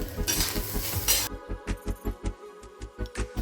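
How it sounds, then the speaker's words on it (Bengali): Grated coconut frying in a pan for sambar, first a bright sizzle, then a run of regular, close scraping taps as a spoon stirs it against the metal pan. "এখন আমি এই নারকেলটা দিয়ে দেব। নারকেলটা একটু লাল লাল করে ভেজে নেব"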